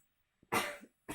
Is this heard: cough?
yes